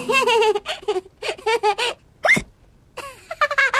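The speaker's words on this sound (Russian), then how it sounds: "Теперь икает." A cartoon pig character, Peppa Pig's brother George, hiccups after gulping juice too fast, a sharp squeaky hiccup landing between lively cartoon voices talking and giggling.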